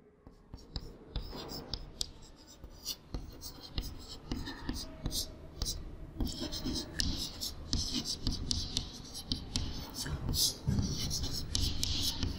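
Pen or pencil scratches across paper as a geometry lesson on polygon exterior angles is written out, a steady run of short close strokes and taps throughout, with no speech over it.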